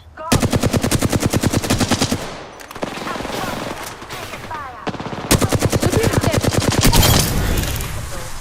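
Rapid automatic gunfire in the video game Apex Legends comes in loud, dense bursts of evenly spaced shots separated by short gaps, with faint talk mixed underneath.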